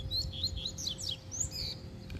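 A caged coleiro, or double-collared seedeater, sings a quick run of bright, sweeping chirps and trills, near and steady throughout, over a low constant hum and no voices.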